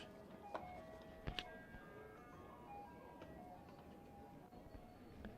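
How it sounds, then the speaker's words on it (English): Tinkling ice cream truck music plays faintly in the distance beside a high school baseball game, a thin repeating chime melody carried over quiet outdoor ambience with a couple of sharp knocks. "That music you hear is the ice cream truck that drives through every once in a while, trying to entice people."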